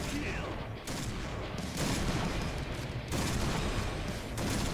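Dense, loud gunfire from the Point Blank shooter game rattles on almost without pause, rapid bursts overlapping one another throughout, with brief dips in intensity between volleys.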